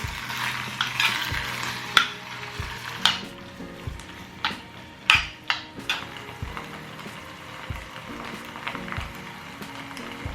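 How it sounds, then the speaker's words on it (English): Onion and kimchi stir-fried in a pot, giving a soft steady sizzle broken by sharp scraping and clacking strikes of a utensil against the pot at irregular intervals. "Then add the kimchi. Stir fry everything for about 5 minutes."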